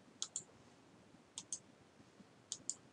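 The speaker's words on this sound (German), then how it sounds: "Wenn ich jetzt rechte Maustaste nehme und öffnen klicke" Computer mouse clicks come in three evenly spaced double-click pairs, crisp, close and faint over a quiet background with no talking.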